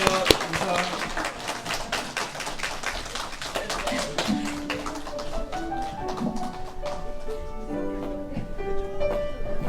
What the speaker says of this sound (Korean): 우리 격려의 박수를 드리겠습니다